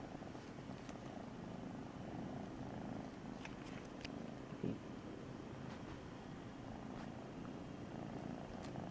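A cat purrs close by in a soft, steady, continuous rumble at low volume, with a faint brief knock partway through and no voices.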